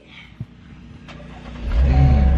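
A car engine runs in the street as the car pulls up, its low rumble swelling and growing louder and closer over the last second, with no talk.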